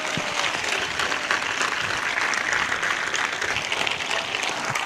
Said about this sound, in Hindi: Come on, give a good clap for our Lord Jesus Christ.